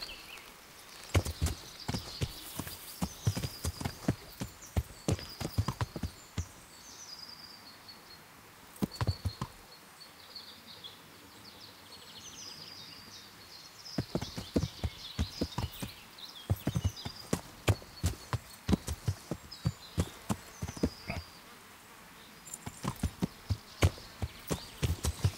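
Horse hooves clip-clop in the medieval role-playing game Kingdom Come: Deliverance, a quick, steady run of hoofbeats that breaks off briefly around the middle and picks up again, set over faint outdoor ambience with no talking.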